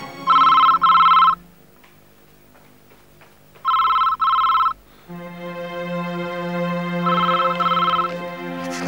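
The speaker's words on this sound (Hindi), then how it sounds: "रात गए किसका फोन हो सकता है" A telephone rings in three double-burst cycles, loud and close, with quiet pauses between rings and a low steady hum underneath.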